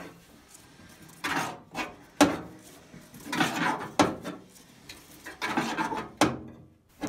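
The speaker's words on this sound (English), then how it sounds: "Next, it's time to roll down the window." A manual crank window on the door of a 1984–88 Toyota pickup being rolled down, a close series of scraping, rubbing bursts as the handle is turned in uneven strokes, with short pauses between them and no speech.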